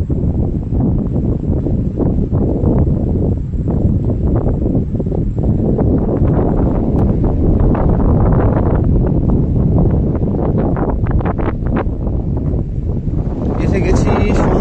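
Cold, gusty sea wind at the beach on Henry Island near Bakkhali buffets the microphone in a loud, continuous rumble that swells and eases throughout.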